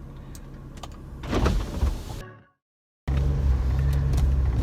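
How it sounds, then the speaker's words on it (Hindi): Electric motors whir steadily as the roof of a BMW 325d convertible folds down, rising to a louder mechanical surge before cutting off abruptly, then a steady hum resumes. "टेस्ट ड्राइव पे ले जाने से पहले मैं इसका टॉप डाउन करना चाहूँगा।"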